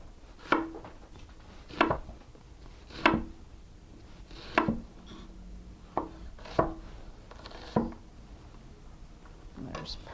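A knife chops through a red onion on a cutting board in about eight sharp, evenly spaced strikes, close and distinct over a low background hum.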